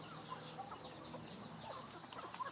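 Fighting-cock breeder hens and roosters of the Mangkon Yok line from Korat, penned in a five-stall breeding house, give faint scattered clucks and short calls over a steady, noisy barn background.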